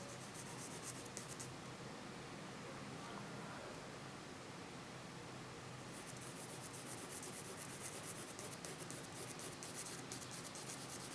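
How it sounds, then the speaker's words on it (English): A mechanical or wooden pencil held flat shades paper with close, rapid back-and-forth strokes, a continuous soft, dry scratching rasp heard up close, brightening and thinning slightly midway with no voices. "I'm shading the lines very closely together, and I'm holding, it doesn't matter whether I'm using a mechanical pencil like this or a wooden pencil"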